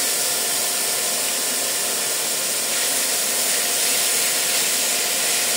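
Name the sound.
grated carrot and papaya frying in a pan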